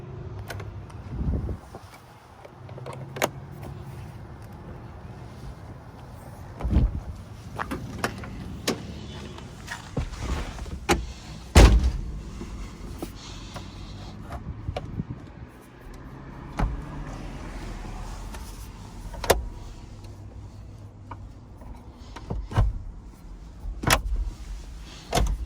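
Convertible soft top of a Mazda Miata being raised by hand, with soft rustles, clicks and latch thumps spread across the stretch, one sharp clunk midway, over a low idle-like rumble.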